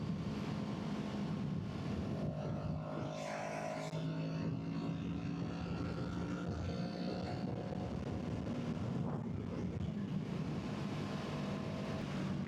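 A Kawasaki Z650 motorcycle pulls hard from 40 to 80 on the road, its engine note climbing steadily under heavy, constant wind rush for about twelve seconds, with no talking.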